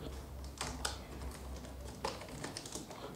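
Someone types on a computer keyboard in Microsoft Word, with a few scattered keystroke clicks over a quiet background. The clicks are fairly faint and close, and no one speaks.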